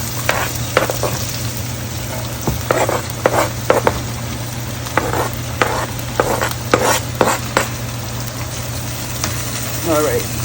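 Seasoning is stirred in a frying pan, with spoon scrapes and taps recurring over a steady low hum and light sizzle, close by while a voice talks intermittently.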